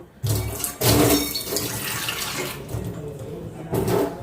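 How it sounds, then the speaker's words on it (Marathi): Half a bowl of water pours and splashes in a few bursts, loud and close, like a tap running into a container. "त्याच वाटीने अर्धा वाटी पाणी ठेवायचंय आपल्याला"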